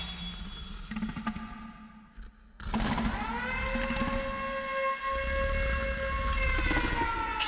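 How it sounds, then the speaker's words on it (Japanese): An end-of-work siren in the video game Killer is Dead starts after a brief quieter stretch and holds a loud, steady wailing tone to the end. "就業のサイレンよ。"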